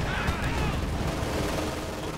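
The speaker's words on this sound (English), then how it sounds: "they're just getting stripped of all the machine gun fire and the gunfire" Dense machine gun fire and gunfire in the real-time strategy game Company of Heroes 2, a continuous rattling barrage at steady volume with no pauses.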